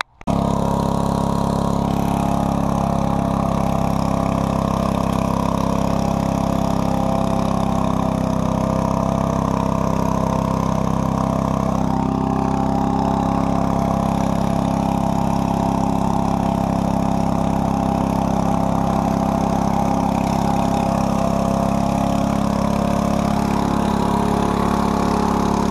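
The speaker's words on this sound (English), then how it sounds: "Now I'm gonna have an easy time mowing." A lawn mower engine runs steadily and loudly from start to finish, holding a constant throbbing drone with no voices over it.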